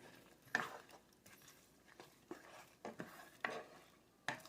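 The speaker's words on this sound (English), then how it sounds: "Get that bacon grease mixing in there with it." Scrambled eggs are stirred through bacon grease in a pan, giving faint, irregular scraping strokes and soft taps of the utensil against the pan over a quiet background.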